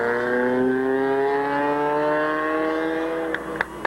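A race car at Midvale Speedway gives a loud engine drone whose pitch slowly falls as it pulls to a stop, held steady for several seconds before a few sharp clicks at the end.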